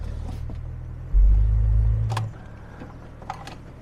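A car with a large oil leak rumbles at idle, its engine swelling briefly to a louder, deeper note before easing off, with a few small clicks and knocks around it.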